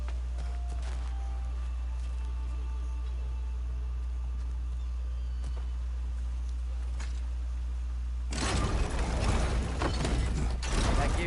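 Game audio from God of War Ragnarok with a steady low mechanical hum and creaking, ratcheting gear mechanism sounds, followed near the end by a louder burst of grinding, clattering movement.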